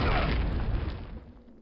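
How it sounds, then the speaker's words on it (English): Grenade explosion in the WWII shooter Call of Duty: United Offensive during a town assault, a single loud close boom with a dense blast that decays over about a second and a half. "Grenade."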